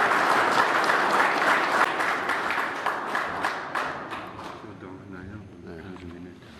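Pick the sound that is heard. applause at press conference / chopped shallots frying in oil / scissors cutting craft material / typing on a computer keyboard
applause at press conference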